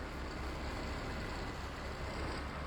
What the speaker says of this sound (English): Get this tractor out of the way